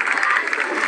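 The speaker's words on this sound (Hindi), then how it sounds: "जोरदार तालियों के साथ इनको सम्मानित करें" A crowd claps steadily at a parade as an NCC girls' contingent marches past a saluting stage, giving a brief, dense burst of applause.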